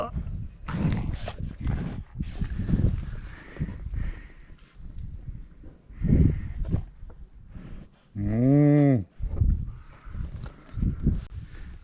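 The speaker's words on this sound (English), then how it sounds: "Lucky cows." Cows in a field by the sea near Lamorna, Cornwall, give several loud nearby moos, one long drawn-out call standing out, with outdoor rustling and breathy sounds between them.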